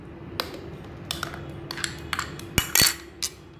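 A spoon stirs mango phirni mixture in a pan, producing scattered light metallic clinks and scrapes against a steady low background hum.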